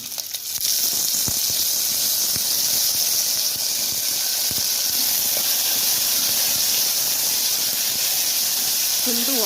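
Sprouted legumes, peeled and washed, sizzle in hot oil with cumin in a pan, a steady loud hiss filling the whole stretch after a brief clatter as they go in.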